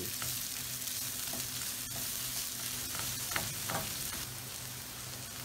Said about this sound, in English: And we just want to fry our onions very slowly.